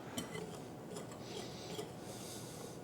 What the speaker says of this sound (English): just whisk the dry ingredients together